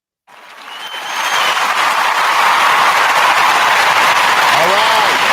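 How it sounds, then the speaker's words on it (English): An audience applauds as a guest is brought on stage at a talk show, a broad wash of clapping that builds over the first second and then holds steady and loud, with a brief voice near the end. "Give him a nice clap,"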